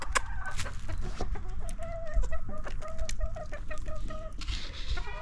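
Several hens cluck steadily and close by in an aviary, a busy run of short repeated calls with a few louder squawks mixed in.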